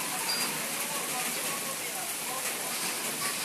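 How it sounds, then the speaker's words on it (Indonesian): Rain falling steadily over a rice paddy in the morning while rice is being planted, a dense continuous hiss of drops that stays even and close throughout. "Pagi ini sedang hujan"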